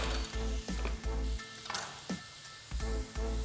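Ground pork and chopped yellow onion sizzling in avocado oil in a pan, a steady close crackle with a rhythmic low thumping underneath and no talk.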